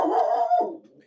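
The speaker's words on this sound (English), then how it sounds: "That's my dog Gilbert." A single close bark from a pet dog named Gilbert, loud and full, trailing into a brief whimpering tail as it fades.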